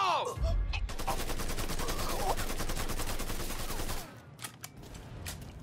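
Rapid automatic gunfire in the Mafia III video game, a dense sustained burst of shots for about four seconds, loud and close, followed by a few scattered single shots and a low rumble.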